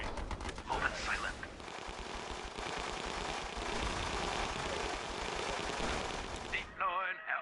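Artillery batteries opening fire in the Battle Islands Commanders strategy game: a dense, continuous barrage of rapid blasts and machine-gun rattle, loud and unbroken, followed by a short burst of higher chirping effects at the end.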